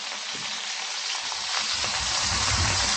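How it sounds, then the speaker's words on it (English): Onions and peppers fry in a pan for hamburger Salisbury steak, a steady close sizzle that grows fuller and louder toward the end, with no talking. "Let's put a few onions and peppers in just for a little while."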